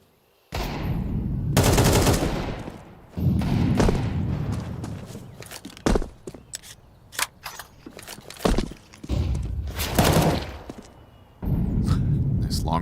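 Desert Eagle pistol shots in a Counter-Strike esports match at PGL Astana, FURIA against Gentle Mates: loud single cracks fired in scattered bursts, mixed with footsteps, with commentators talking over the action.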